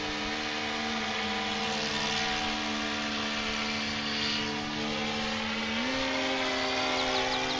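An electric RC airplane motor with its propeller, the same setup as on a Saber, holds a steady high whine as the plane hovers, with a continuous drone that shifts pitch upward near the end.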